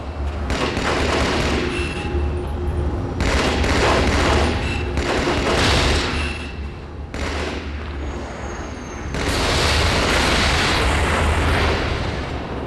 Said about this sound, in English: watch as I go to work with the battle rifle, which, so you know, unzoomed fires three-shot bursts